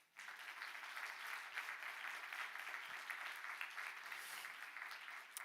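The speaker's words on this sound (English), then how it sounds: "And I think that they deserve a big round of applause." An audience at a fisheries and ocean science seminar breaks into sustained applause, a dense, even wash of clapping that starts abruptly and holds steady, heard from some distance.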